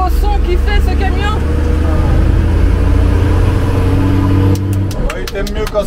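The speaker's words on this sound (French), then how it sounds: "Écoutez le beau son qui fait ce camion." A Magirus Deutz camper truck's heavy engine rumbles steadily close by with a low droning tone, its pitch dropping near the end as faint voices come in.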